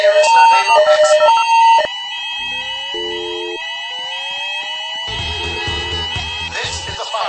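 A fire alarm blares through Master Mall, loud electronic tones stepping and sweeping in pitch, sustained over the whole stretch with a harsh, echoing quality.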